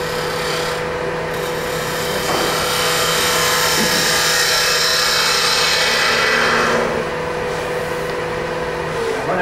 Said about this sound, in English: So with an ordinary spindle gouge turned over on its side,